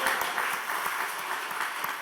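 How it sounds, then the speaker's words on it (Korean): A church congregation applauds after a choir performance at a Sunday afternoon service, giving a dense, continuous patter of clapping at moderate loudness with no talk over it. "박수 한번 하겠습니다."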